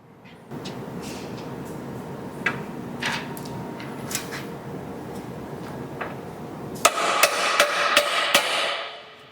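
Dimples are hammered into a metal tube of an overfill prevention valve, sharp metallic strikes close by, scattered at first, then a quicker series of blows near the end over a low background hum.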